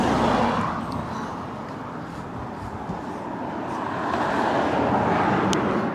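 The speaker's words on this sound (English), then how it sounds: "loads of cars go past" Steady roadside traffic wash as several cars drive past on a road, a continuous broadband roar that swells louder near the start and again toward the end, with no voices.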